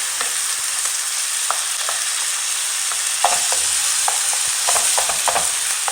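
Minced lamb kefta fries in a pan, a loud constant sizzle close by, broken by repeated scraping and clacking strokes as the meat is stirred through.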